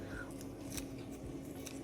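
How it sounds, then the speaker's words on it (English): Kitchen scissors snip through fresh basil leaves for a linguine dish with tomatoes and anchovy, giving several soft, close crisp cuts at irregular intervals over a steady low background hum, with no talking. "I've chosen to cut the basil with scissors"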